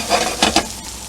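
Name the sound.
white mushrooms sautéing in oil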